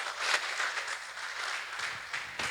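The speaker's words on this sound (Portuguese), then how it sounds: "Dá um aplauso para Jesus." Church congregation applauding together, a brief burst of steady, moderately faint clapping with little else around it.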